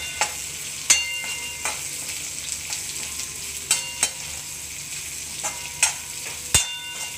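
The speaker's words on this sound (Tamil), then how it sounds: "இப்போ இதை நறுக்கி வச்சுருக்கிற மாங்காவை நம்ம போட்டுடலாம்" Chopped raw mango sizzles steadily in a hot pan while making mango garlic thokku, with a constant frying hiss and scattered sharp clicks of a spoon stirring, close up and without talking.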